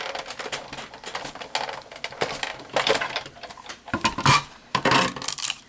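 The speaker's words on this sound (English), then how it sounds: "I've got my Big Shot off to the side. So I'm going to crank these off." A Big Shot die-cutting machine cranked by hand, producing a run of close, rapid mechanical clicks and ratcheting clatter that builds into louder bursts near the end.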